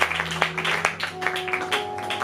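A church congregation at a Sunday service applauds in praise to God, scattered claps rising over a sustained tone and murmuring voices, fairly close and moderately loud.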